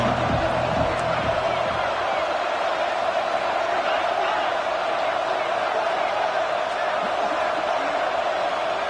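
Stadium crowd roaring in a college football video game, a sustained loud wall of cheering as the defense holds in the red zone, with a few sharp bursts early on and play-by-play commentary over it.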